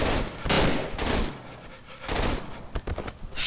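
Video game gunfire in Cry of Fear, several loud close bursts and single shots in uneven clusters, with short quieter gaps between them.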